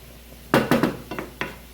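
Mushrooms stirred with a utensil in a single pot, giving a few sharp, close scraping clatters against the metal in an irregular rhythm, with quieter pauses between them.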